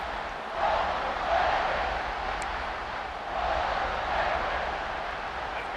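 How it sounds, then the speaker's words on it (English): Home stadium crowd in the video game College Football 26, a steady distant roar of fans swelling in two broad waves, soft and continuous with no distinct voices. "this home crowd ready to celebrate a very satisfying home victory"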